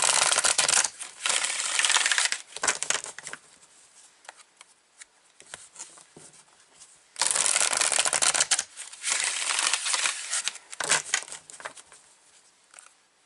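Tarot cards are shuffled and pulled from a deck, in bursts of crisp riffling and flicking close up, separated by quieter pauses with light handling taps.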